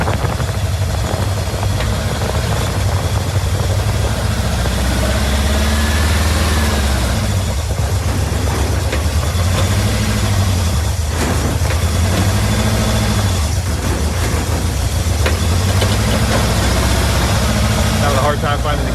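Steady idle of a VW Beetle engine with carburetors recently adjusted, a continuous loud drone with a wavering low hum, running throughout without pause, with a voice talking over it.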